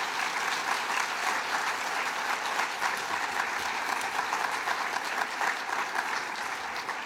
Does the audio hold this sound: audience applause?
yes